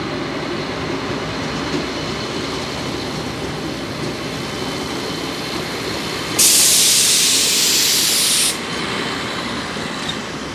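A train at Nymburk main station in the Czech Republic gives a steady rumbling, hissing presence throughout, with a loud burst of high air hiss in the middle lasting about two seconds before it cuts off.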